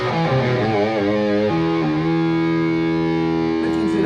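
Dean Cadillac electric guitar played through gain, sustained distorted notes and chords ringing out loud and alone for a few seconds.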